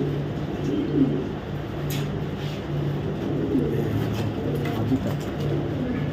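Racer pigeons, including a female, give soft, close coos at intervals over a low background hum and faint distant traffic.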